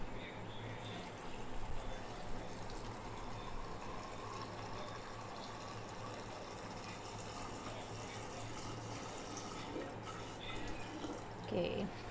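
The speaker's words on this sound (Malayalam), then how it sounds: "പിന്നെ വെള്ളം ഒഴിക്കുക. ഇത് നേര് ചൂടുള്ള വെള്ളം കേട്ടോ." Boiling hot water poured into a container while pickling mango, a steady close rush of liquid that runs without a break for the whole stretch, with faint extra splashes near the end.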